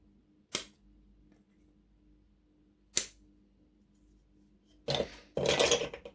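Plastic parts from a Tamiya King Hauler truck kit: two sharp clicks as pieces are cut from the sprue, then a close, raspy scraping as a file is rubbed over one part, ending in a longer, louder stroke.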